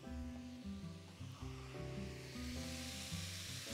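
Sauce sautéing in a hot pan while cooking Indian chicken curry, a steady close sizzle and hiss running the whole time under a bed of soft background music.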